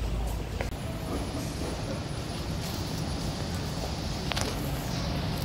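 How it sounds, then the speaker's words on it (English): Airport MRT train at Taoyuan Airport, a steady rumbling rush of rail travel with a faint high whine and brief clunks, continuous and fairly loud with no talk. "The bullet train."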